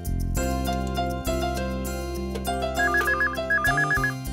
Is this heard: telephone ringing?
yes